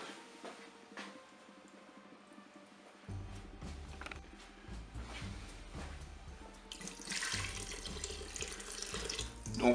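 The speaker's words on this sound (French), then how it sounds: "Et puis, je vais recouvrir d'eau." Water pours steadily into the bowl of a Cookeo pressure cooker, beginning after a short quiet pause and then rising into a fuller, splashing rush near the end.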